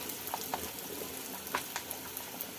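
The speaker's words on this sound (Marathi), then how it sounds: "कांदा छान असा सोनेरी रंग येईपर्यंत परतून घ्यायचा" Chopped onion sautéing in a pan for a pigeon pea usal gives a soft, steady sizzle with scattered light pops and ticks, fairly quiet and close, with no speech.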